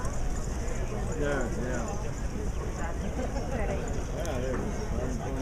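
A racehorse jogs past on the Kentucky Derby track during a morning workout, its hoofbeats a repeated clip-clop under steady outdoor background noise and a voice talking.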